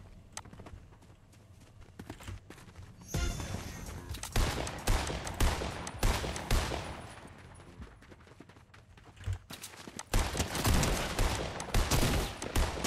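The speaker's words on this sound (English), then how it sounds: "That tactical shotgun does nothing." Tactical shotgun fire in Fortnite Chapter One, heard as a dense run of loud, sharp blasts and clatter in two bursts, with quieter game sounds and movement between them.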